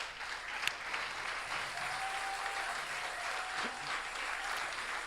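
A church congregation at a Sunday service applauds in acclamation, a steady, moderately distant wash of clapping that continues evenly throughout.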